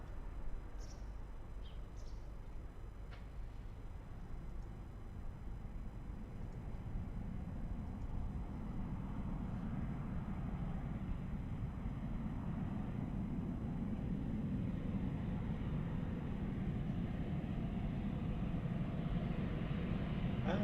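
A TAP Express Embraer E190 airliner arriving at Lisbon Airport rumbles with a low, broad roar that slowly swells and grows louder, heard from a distance with faint bird chirps early on.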